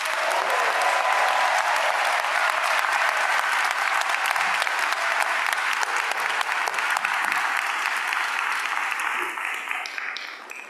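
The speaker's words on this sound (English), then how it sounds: "Would you all please join me in applause for the Doctor of Education graduates?" At a school of education graduation ceremony, an audience applauds the Doctor of Education graduates with sustained, dense clapping that fills the hall loudly and evenly throughout before tapering slightly at the end.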